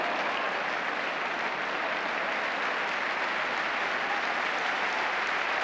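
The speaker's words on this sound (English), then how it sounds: "Applause all around" A football crowd at a 1981-82 West Ham United versus Manchester United match applauds, a steady distant roar of clapping filling the stadium evenly and without commentary.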